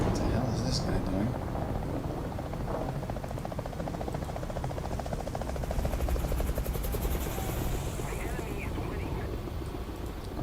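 A Seahawk helicopter in War Thunder drones with a steady, rhythmic rotor chop and engine whine that holds throughout, with a voice talking over it.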